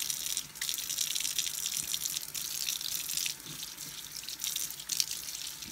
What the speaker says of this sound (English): So I already ran this water on high and hot, so this is hot water.